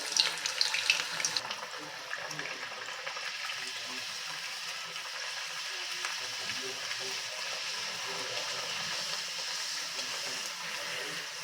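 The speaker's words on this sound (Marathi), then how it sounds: "आता एक एक करून ही पुरी आपण सोडायला घेऊया" Puris deep-frying in hot oil, pressed down with a slotted spoon: a steady, even sizzle and hiss runs throughout, louder and more crackly for the first couple of seconds, then settling into a constant bubbling fry.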